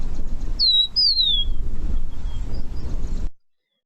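A grassland bird in South Africa's west gives a few thin, high whistled call notes over a steady low rumble of background noise, fairly faint and in the distance, with no speech.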